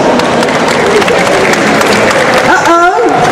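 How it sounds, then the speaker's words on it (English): Audience at the Crufts 2013 dog show applauds in a dense, continuous wash of clapping, with a voice rising briefly over it near the end. "Give them a round of applause."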